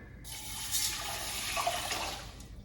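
Water pours from a tap into a saucepan holding a cup of wild rice, about two and a half cups running in a steady close stream that starts abruptly and continues to the end.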